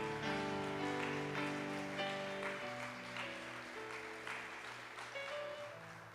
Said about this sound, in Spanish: Den un aplauso a mi Jesús